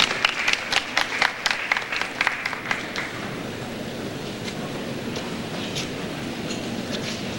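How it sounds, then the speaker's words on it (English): Audience applause at a school awards ceremony, an opening burst of sharp claps around the room settling into steady, full clapping that carries on throughout. "Let's give them a big round of applause."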